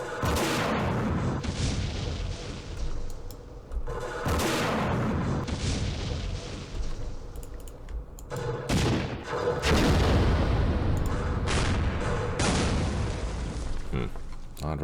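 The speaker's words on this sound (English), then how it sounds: "we have a recoilless rifle. Let's hit something." A recoilless rifle fires in the wargame Campaign Series Middle East, set on a Yemen ridge: a series of heavy booming blasts and bursts with rumbling tails, repeating over several seconds at strong, even loudness.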